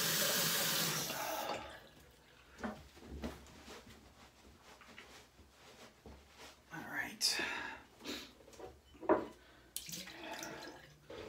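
A bathroom tap runs water as a man rinses off after a shave, the stream splashing unevenly with quiet whispered talk over it.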